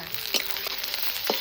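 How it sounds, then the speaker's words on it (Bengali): Garlic, chopped onion and green chilli fry in hot mustard oil in a kadai, giving a brief, steady sizzle with a couple of sharper spits, close and moderately loud. "গরম কড়াইয়ে দিয়ে দিচ্ছি সর্ষের তেল, রসুন, কুচিয়ে রাখা পেঁয়াজগুলো দিয়ে দিচ্ছি"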